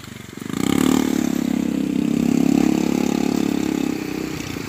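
A motorcycle engine idles close by with a steady low throb, swelling slightly, then easing off.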